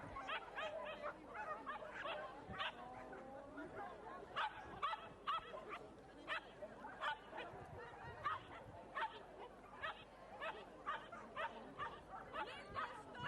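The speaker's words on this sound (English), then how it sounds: "these border terriers can be right little speedy, yappy little things" Border terriers at an agility dog show give repeated quick yaps and barks in an irregular series over steady crowd murmur and commentary, moderately near and fairly loud.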